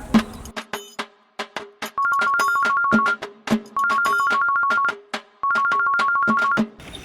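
A mobile phone ringtone plays for an incoming call in a village setting: a repeating two-tone electronic melody in three sustained bursts, mixed with short, busy, beeping phrases, loud and close with no talk over it.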